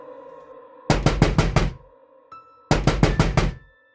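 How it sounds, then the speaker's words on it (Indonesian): Two loud bursts of rapid knocking, five sharp raps each, come from inside an empty, unused wooden wardrobe in a rented room, with a short pause between the bursts and quiet before and after. "Tiba-tiba terdengar suara ketukan yang sangat berisik dan mengganggu."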